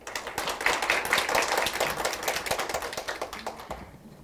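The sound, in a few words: audience clapping to welcome the moderator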